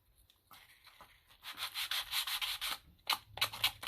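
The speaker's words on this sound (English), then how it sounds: "if you've got your sandpaper, you can just sort of lay it down, wipe it down the side" Sandpaper rubs along the edge of paper in a series of quick, close scratchy strokes, starting softly and growing more vigorous, rhythmic bursts toward the end, with no voices.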